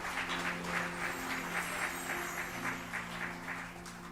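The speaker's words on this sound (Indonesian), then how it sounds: "Berikan tepuk tangan lebih keras lagi." A church congregation claps along in a steady rhythm, the repeated claps soft and blended under sustained music throughout.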